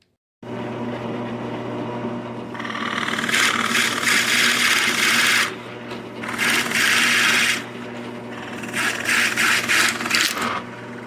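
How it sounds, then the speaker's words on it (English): A drill motor hums steadily while the bit bites into wood in three long grinding bursts, loud and close, with brief pauses between. "I put these boards on here to keep my board that I'm drilling from spinning."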